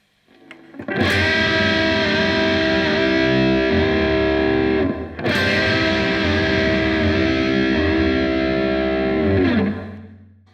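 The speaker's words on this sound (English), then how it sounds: "The next powerful bending I'm going to show you I call the Western train bending." Heavily distorted electric guitar sustaining thick bent chords in two long swells, sliding in pitch like a wailing train horn, loud and alone.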